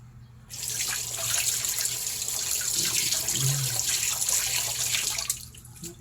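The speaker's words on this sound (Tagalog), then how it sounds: "Pero maghuhugas tayo ng kamay." A kitchen tap gushes steadily for several seconds while hands are washed beneath it, a close, loud, continuous splash that starts and stops abruptly, with no speech.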